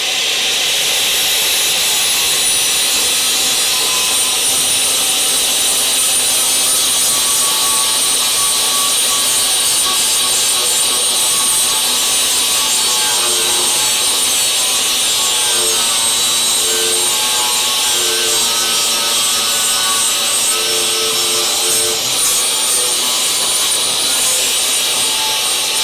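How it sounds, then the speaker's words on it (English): Flap disc grinding bare metal on a Charger crew cab during restoration, a steady loud abrasive whine with a harsh rasping edge that holds for the whole stretch, no talk over it. "I really just want to make sure we don't grind off too much metal over here"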